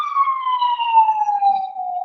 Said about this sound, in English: Whose ever ambulance is going.